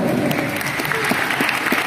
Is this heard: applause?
yes